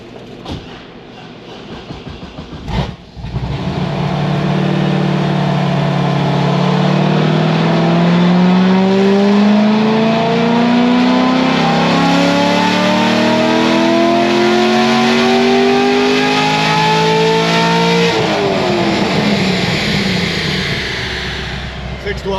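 A Chevrolet Corvette Z06's LS7 V8 with stage 3 cam and heads revs loudly and steadily upward through a long dyno pull for about fifteen seconds, its pitch climbing, then drops off sharply as the throttle closes.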